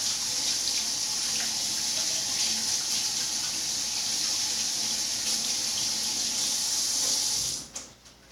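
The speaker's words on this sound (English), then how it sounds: "Let me wash my hands." Hands being washed under a running kitchen faucet, a steady close splash and hiss of water that continues for several seconds before cutting off abruptly at the end.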